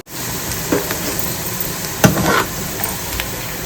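Oil sizzles steadily in a pan close by as ginger pieces fry for pickle, with a few clinks and scrapes of stirring cutting through the constant crackle.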